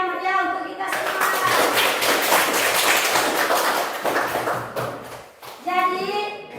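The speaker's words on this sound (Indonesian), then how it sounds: "Beri tepuk tangan yang meriah untuk kita semua." Children in an Indonesian classroom burst into enthusiastic clapping, a dense loud patter of many small hands lasting several seconds, with a teacher's voice speaking before and after it.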